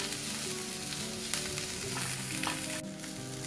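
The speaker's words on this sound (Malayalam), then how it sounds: "ഇവിടെ നമ്മുടെ ഓണിയൻ നന്നായിട്ടൊന്ന് വാടി വന്നിട്ടുണ്ട്" Onions sautéing in a pan with a little salt for a Malabar stuffed chicken gravy, giving a steady close sizzle with light stirring scrapes throughout, no voices.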